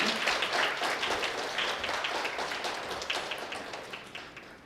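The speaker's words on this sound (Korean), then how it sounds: "뜨거운 박수로 응원 부탁드리겠습니다." Applause from an audience at an academic conference presentation on art therapy, a steady dense patter of many hands clapping that slowly fades over several seconds, with no voices.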